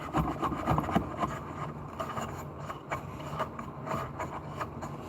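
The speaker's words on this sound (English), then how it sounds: "Just enjoying the spoils of a sharp chisel and some softish wood," Sharp chisel cutting into soft wood during a mallet build from a 2x4, giving close, irregular scraping and paring strokes with small knocks, steady at moderate level throughout.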